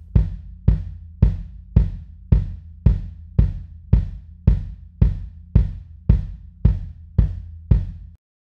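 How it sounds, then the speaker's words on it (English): Kick drum miked from outside the shell with a Shure KSM313 ribbon microphone, about fifteen evenly spaced thumping hits with full low-mid body and a softer attack, close and solo with no talking. "On the outside of the kick, I'm using the Shure KSM313 ribbon microphone."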